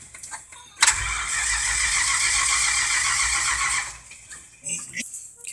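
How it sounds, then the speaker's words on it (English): An engine cranking on a cold start after a shot of starting fluid, a loud close whirring crank running about three seconds, then stopping, with short voices around it. "I'm gonna try cranking now"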